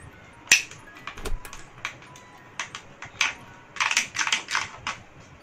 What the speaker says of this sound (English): I'll take this bottle and I'll try to cut it